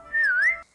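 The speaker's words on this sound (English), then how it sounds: "they just whistle like this" One clear human whistle glides down and back up in pitch for about half a second, loud and close with no talking.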